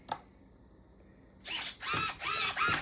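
Small servos on an Arrows Prodigy FPV RC plane drive the flaps and spoilers, a quiet lull giving way to three loud whirring bursts of motor buzz and gear whine, close up with no talk.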